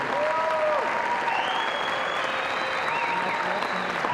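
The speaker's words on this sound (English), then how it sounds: "Round of applause for our undergrads." An awards-night audience applauds undergraduates, a sustained even roar of clapping with faint cheers and whoops riding over it throughout.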